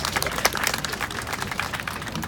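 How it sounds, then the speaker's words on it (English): A crowd at an animal rights rally outdoors claps in a steady patter of applause, a dense burst of many hands that carries on briefly without voices. "We give a good clap for each one."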